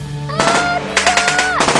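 Loud volleys of gunfire erupt after a shouted order to shoot, in a scene involving Dutch colonial troops, with sharp repeated bursts over a sustained musical tone.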